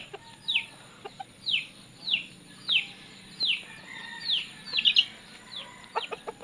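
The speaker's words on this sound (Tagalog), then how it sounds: "Pahitan natin yung ating labuyo." A wild junglefowl rooster gives a series of short, high, clucking calls in an evenly spaced rhythm, roughly one per second, faint to moderate in an outdoor setting, with a quick cluster of calls near the end.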